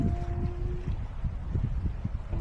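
Wind rumbles steadily across a microphone at a fishing spot in Fairbank Provincial Park, a low, dense buffeting with small gusty surges and no speech.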